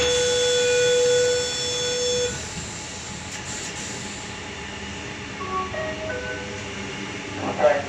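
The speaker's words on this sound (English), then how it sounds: "So basically we're going to be departing ASAP once the loading process has been completed." Sydney T4 train departing a station: a steady rumble with a held high tone that fades after about two seconds, then quieter running noise with faint squeals and a brief rise at the end.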